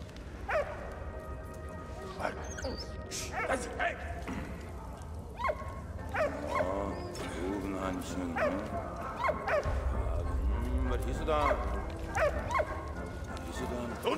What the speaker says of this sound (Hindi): कुत्ते को मैंने यहाँ बुला लिया।